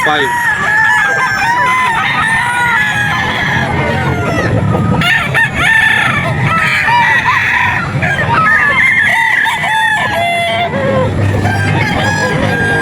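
Young roosters (stags) at a pet market crow repeatedly and overlap loudly, with clucking and a busy crowd murmur in the background throughout.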